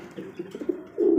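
Pigeons cooing close by at a bird market where racer-type pigeons are on sale, soft repeated coos that swell into a louder sustained coo near the end, with no talk.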